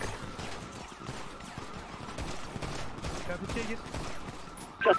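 SMG gunfire in a GTA roleplay shootout with police after a jewelry store robbery, rapid bursts of shots rattling repeatedly under urgent shouted voice chat, with a louder burst at the end.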